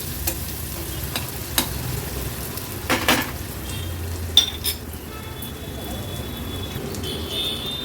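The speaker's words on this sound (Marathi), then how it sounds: "आता गॅसची फ्लेम लोवर ठेवून कांदा व्यवस्थित आपल्याला शिजवून घ्यायचा आहे" Onions cooking in a pan over a low gas flame give a steady soft sizzle and frying hiss, with a few sharp clinks and scrapes of stirring scattered through.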